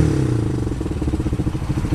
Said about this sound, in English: Got a little burly exhaust, sounds aggressive.